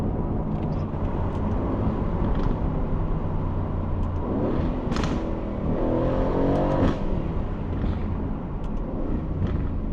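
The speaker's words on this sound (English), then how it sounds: "Wait till you hear these downshifts." A loud Aston Martin supercar exhaust roars steadily, with sharp rising blips as the engine revs through downshifts.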